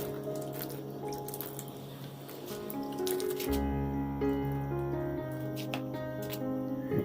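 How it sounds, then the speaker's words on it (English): Water is sprinkled onto potting soil in a container after sowing coriander seeds, producing scattered light patters and drips with a brief gush midway, close and quiet, with no voices. "Sprinkle water to wet the soil."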